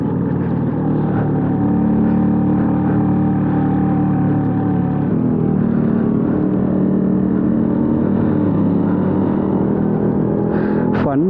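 An LML Vespa NV two-stroke scooter from 1990 drones steadily while being ridden, a loud, continuous buzzing engine note that holds fairly even with slight shifts in pitch, under some talking.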